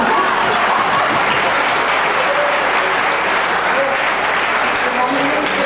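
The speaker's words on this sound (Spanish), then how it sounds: "¡Aplaudanme, caramba!" An audience applauds steadily at the Maestros de la Música Colombiana 2008 concert, a dense, unbroken roar of clapping that holds at an even loudness throughout.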